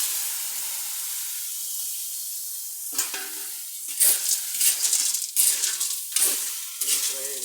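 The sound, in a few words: sautéing snails (suso) with garlic, sizzling in pan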